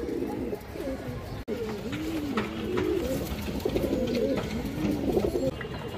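A male Muslodom pigeon coos in a string of repeated, rolling calls. The bird is fairly close and clear, with a soft background hum and no talking.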